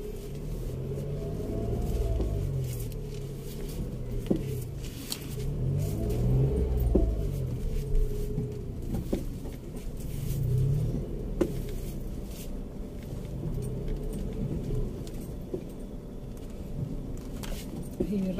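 A car engine revving up and down repeatedly as the pedal is pumped, swelling and falling in low rumbling waves under steady cabin noise, close and alone without talk.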